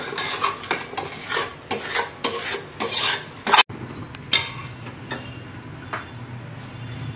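Fried rice and mung lentils for khichuri being tipped from one vessel into a pot, with a run of scraping, clinking metal spoon strokes and a sharp knock, then sparser taps and rustles, close and moderately loud.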